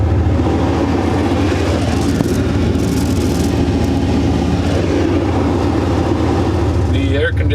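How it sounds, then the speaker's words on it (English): A Dodge Ram 1500 pickup's air conditioner blows ice-cold air through its vents, making a loud, steady rushing hum over the idling engine, with a brief brighter gust partway through and a faint rattle near the end. "The air conditioner makes the, crappy tent blow in the wind"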